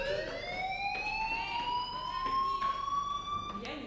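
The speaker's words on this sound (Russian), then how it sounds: "Эй, ты слышишь сирену?" A fire alarm siren in the game Life Is Strange wails loudly and continuously, its pitch climbing slowly throughout, with faint background clatter beneath it.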